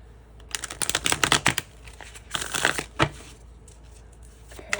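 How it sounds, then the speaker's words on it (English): Tarot cards shuffled by hand in a few quick riffling bursts, crisp papery flutters and taps close by with short pauses between, and no talking. "I'm going to give it another shuffle."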